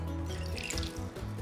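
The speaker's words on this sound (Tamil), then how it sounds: "நம்ம கிட்டத்தட்ட ஒரு 500 ml தண்ணி நம்ம கடாயில் ஊற்றிடணும்" Roughly 500 ml of water pours steadily into a kadai for cooking multi-millet noodles, a continuous splashing gush with no pauses and no voices.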